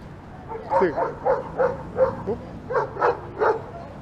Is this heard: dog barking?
yes